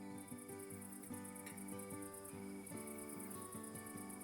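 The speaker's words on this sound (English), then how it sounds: "Crickets chirped their tiny songs." Crickets chirp in quick, pulsing rhythms, several overlapping, with a high steady trill above, faint and calm like a night field.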